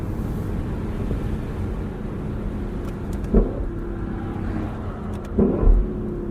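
Steady engine and road noise from a 2021 Lexus LC 500 Convertible cruising, broken by two brief thumps or bumps a couple of seconds apart, with no one talking.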